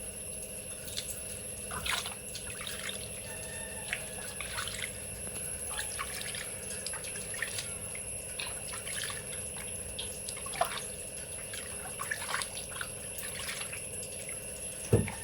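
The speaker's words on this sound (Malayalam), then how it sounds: "അപ്പോൾ നമ്മൾ കാല് കുറച്ച് കഴുകി എടുത്തിട്ടുണ്ട് കേട്ടോ" Water drips and trickles while feet are washed during a pedicure, soft irregular splashes and pours over a steady faint background hum, close and quiet, no talking.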